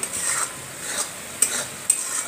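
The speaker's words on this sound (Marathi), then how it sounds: "हलवत राहायचं." Jaggery syrup being stirred in a pan on the stove, soft repeated scraping strokes with a few sharper taps of the spoon against the pan, close and alone.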